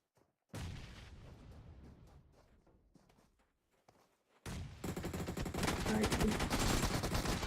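Gunfire in an esports video game match, Ivy League season 8: rapid bursts of shots start loud, thin out into scattered pops, then a dense, louder barrage of firing takes over to the end.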